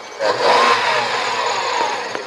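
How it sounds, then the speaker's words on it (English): A vehicle engine seized by sheriffs runs loudly and steadily after being lifted off gravel, a close, racy-sounding roar that stays strong throughout with no speech. "they can hardly hear themselves over the noise of the engine"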